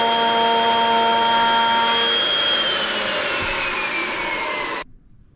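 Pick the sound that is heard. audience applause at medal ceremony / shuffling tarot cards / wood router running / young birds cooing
wood router running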